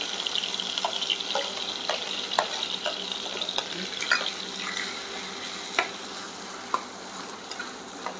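Chopped onion frying with cumin, garlic and green chilli in a pan, a steady close sizzle with scattered stirring clicks and scrapes throughout.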